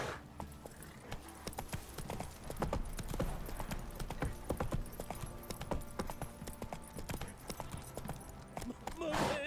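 In the video game The Witcher 3: Wild Hunt, steady clip-clop of horse hooves at a slow walking pace, fairly close, with faint ambient background and occasional soft thumps.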